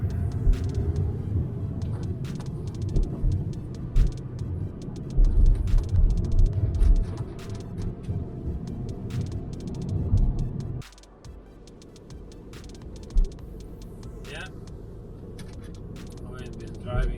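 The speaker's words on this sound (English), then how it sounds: "I've been driving for almost half an hour, and there's no power in the car." A Volkswagen Passat 2.0 TDI 16V 4Motion with no power being driven, its engine and road rumble steady and loud inside the cabin, dropping to a quieter drone partway through, with occasional clicks.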